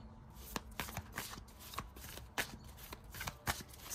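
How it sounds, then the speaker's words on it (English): Tarot cards being shuffled by hand in a quiet room, a run of quick, crisp riffles and taps coming at an uneven rhythm, close and fairly faint. "I'm going to pull a plethora of cards"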